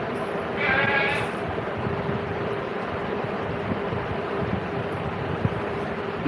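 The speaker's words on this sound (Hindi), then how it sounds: "ये बकरी बोल रही है" A goat bleats once, a short wavering cry at moderate distance near the start, then steady wind-like outdoor noise continues without further calls.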